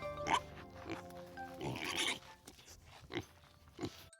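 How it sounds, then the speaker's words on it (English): Pig oinking and grunting in a short run of snorty, rough calls, close and moderately loud with brief pauses between them. "pig,"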